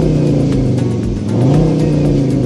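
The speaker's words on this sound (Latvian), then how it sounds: "līdz ar režīmu pārslēgšanu mainās arī šī automobiļa dzinējskaņa" A car's engine note after switching driving modes, such as sport mode: a steady, close, mid-pitched rumbling hum that swells slightly midway, with no talking.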